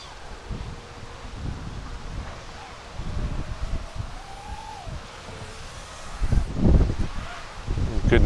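Gusty wind buffets the microphone with low rumbling bursts while flying a small EMAX Babyhawk II drone, growing stronger toward the end, over a faint steady hiss.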